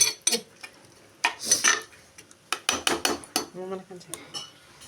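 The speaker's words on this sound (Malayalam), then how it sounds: "ഇളക്കി കൊടുക്കാം നമുക്ക്." A metal spoon scrapes and clinks against a pot of mushroom curry in a series of irregular, close-up stirring strokes, with brief quiet pauses between them.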